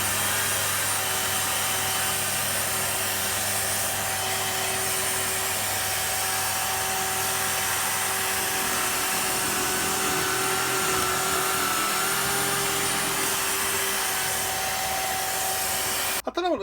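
A Bosch PDB40 drill press runs steadily at its top speed of 2,500 rpm, giving a loud, even motor whine and hum that holds for the whole stretch and cuts off abruptly at the end.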